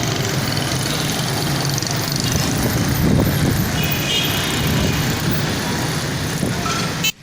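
Street traffic in Limbe of private cars, taxis and commercial motorcycles, a steady broadband rumble of engines passing and idling at moderate distance, continuous throughout with no voices.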